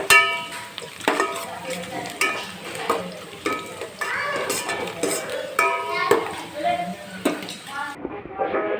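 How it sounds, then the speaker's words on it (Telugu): Onions frying in a pan until browned for pulao, with steady sizzling and repeated clinks and scrapes of a utensil stirring against the pot, up close and fairly loud. "ఇక్కడ ఆనియన్స్ అయితే బ్రౌన్ అయ్యే వరకు అయితే వేయించుకోవాలి"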